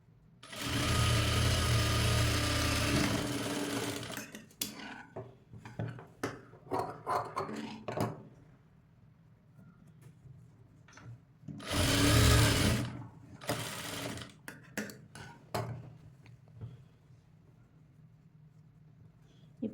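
A sewing machine runs in two bursts, one long at the start and another shorter one later, stitching hooks onto the left side of a cutwork blouse, with clicks and fabric handling between runs.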